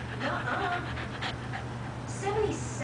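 A cocker spaniel puppy pants steadily after play, a quick rhythmic breathing heard close up against light background noise and a brief high whine near the end.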